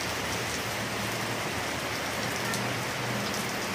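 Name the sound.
heavy rain pouring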